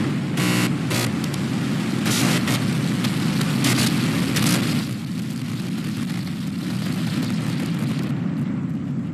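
A SpaceX Super Heavy Starship rocket lifts off with a broad, continuous roar and crackle, loud and steady, with no voices.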